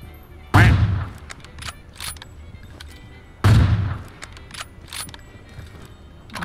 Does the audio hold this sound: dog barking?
no